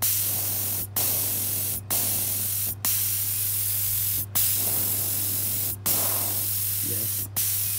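A stand-style oxygen jet machine sprays in a steady loud hiss, cut by short regular pauses about once a second as the output cycles, with a low constant hum beneath.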